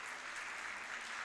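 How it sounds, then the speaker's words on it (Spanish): Congregation applauding during a church service, a dense, steady wash of clapping that fills the whole short stretch at moderate distance with no voices over it. "Usted debería darle un aplauso al Señor en esta noche."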